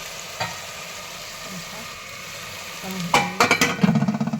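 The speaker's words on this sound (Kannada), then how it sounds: "ಸ್ವಲ್ಪ ಚೆನ್ನಾಗಿ ಬೇಯಬೇಕು ಟೊಮೊಟೊ ಎಲ್ಲ." Tomatoes frying in a pan and being stirred, a steady soft sizzle with a few scraping stirs and clatters toward the end, close and moderately loud.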